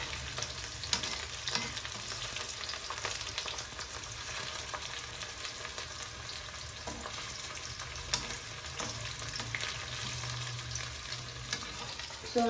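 Hair oil ingredients fry steadily in a pan on the stove, a continuous soft sizzle with occasional stirring clicks and scrapes, fairly quiet and close, with no talking.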